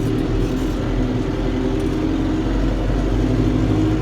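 A New Holland TD90D tractor's engine labours steadily under load while pulling a roller implement, a loud, continuous mid-pitched drone close by with no talk.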